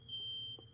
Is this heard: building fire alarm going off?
yes